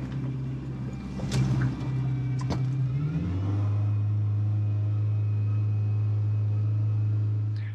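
A car engine idles with the fast idle raised while a parasitic battery drain is being diagnosed. A steady, even, low hum holds close and loud for most of the clip, with a brief uneven start before it.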